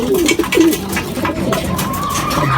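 Racing pigeons coo close by in repeated soft, throaty calls, with a bit of background chatter from the loft.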